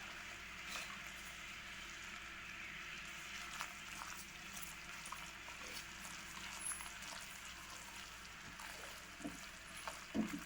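Khoya being stirred in a pan with the heat switched off gives a soft, steady scraping and faint sizzle, quiet and continuous with occasional small clicks of the spoon.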